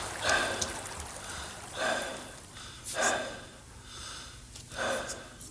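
Slow, deep breaths repeat about four or five times, each a long airy inhale or exhale close to the microphone, with steady background hiss.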